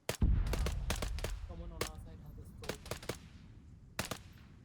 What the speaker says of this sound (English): I think we're being shot at.